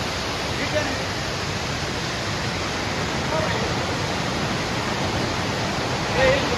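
A constant roar of rushing water in a swollen valley stream near Ratangad and Bhandardara, like a strong torrent or falls, steady and loud throughout.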